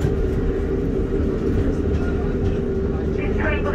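Class 150 diesel multiple unit running on the line from Cardiff Central toward Crewe, heard from inside the carriage: a steady low engine drone and rumble throughout, with a voice speaking over it.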